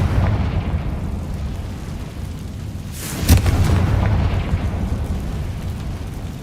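A Confringo fire spell in Hogwarts Legacy bursts once at mid-clip as a sharp boom, set within a continuous low rumbling game soundscape and no talk.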